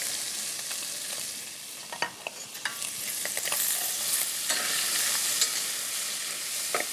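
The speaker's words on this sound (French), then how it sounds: "Je vais mettre cette échalote et ces carottes à revenir avec la carcasse." Shallot and carrots browning with a squab carcass in a pan, giving a steady close sizzle with occasional stirring scrapes and clicks, no talking.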